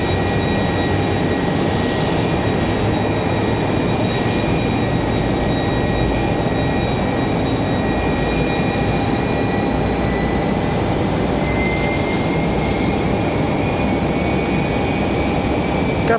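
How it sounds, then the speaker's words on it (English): A Southwest Airlines jet comes in to land on runway 23 left at Raleigh-Durham International, giving a steady, loud, broadband roar with thin whining engine tones that holds for the whole stretch, with no talking. "Southwest going to come in over on 23 left"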